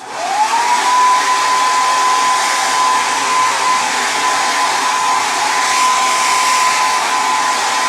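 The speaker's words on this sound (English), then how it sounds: "So I blow it dry, basically in a better direction than, you know, sticking straight up." A hair dryer blows steadily at close range while styling hair, starting up abruptly and holding a constant airy roar with a faint whining tone throughout, no voices.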